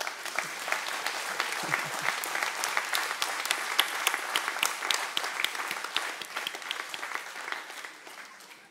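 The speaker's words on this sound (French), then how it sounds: "On applaudit quand même pour le Seigneur." A church congregation applauds, steady dense clapping from many hands lasting several seconds, fairly close and continuous before tapering slightly at the end.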